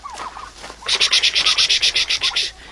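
Farmyard turkeys gobbling in a pen, a rapid run of about a dozen loud rhythmic gobble pulses following a few softer bird calls, close to the microphone.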